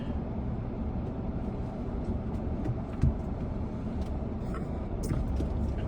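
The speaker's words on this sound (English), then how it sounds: "So the cars are moving, and so shall we, while driving carefully on this road." Steady road traffic and engine rumble inside a car driving an evening route on King Fahad Road in Riyadh, a continuous low drone with a brief bump partway through and no talking.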